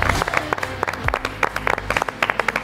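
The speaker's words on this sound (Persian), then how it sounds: "تشویقشون کنیم." Studio participants at a Mafia-style party game show clap in loose, uneven bursts, with sharp individual claps standing out over a softer crowd patter.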